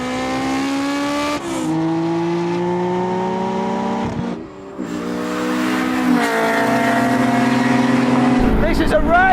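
Toyota Supra and Dodge Charger in a rolling half-mile drag race, loud engines climbing through gears with sharp shift breaks and a sustained high rev, close and raw, with people talking over it.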